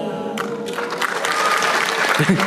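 Steady applause from a crowd, many hands clapping together in a dense continuous wash that stays loud throughout.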